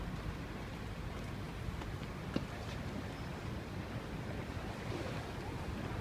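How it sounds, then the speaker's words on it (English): River Thames water flows quickly beneath London Bridge, a steady broad rushing wash mixed with wind noise on the microphone, no voices heard. "The water is flowing very quickly."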